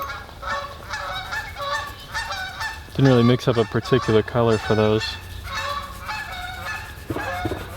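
Geese honking loudly by a pond in a burst of repeated calls, preceded and followed by a person talking nearby outdoors.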